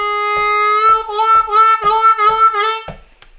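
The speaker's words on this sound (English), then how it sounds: "Okay, so we are starting with a very slow released 4-draw bend." A harmonica plays a very slow released 4-draw bend, a sustained reedy tone that swoops upward as the bend lets go, then a run of six short pulsed notes, close and clear with no talking.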